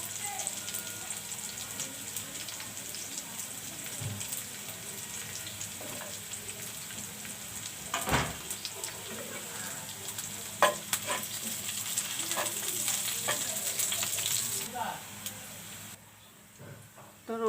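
Garlic and onion frying in a pan, a steady close sizzle with occasional stirring scrapes and clinks, ending in a brief quieter moment.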